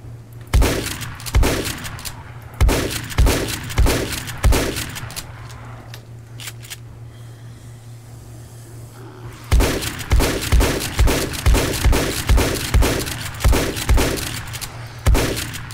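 Shotgun blasts in a zombie video game fire in regular, heavy, booming shots about every half second. The run of shots is interrupted by a quieter lull of several seconds, then resumes with a faster string of blasts.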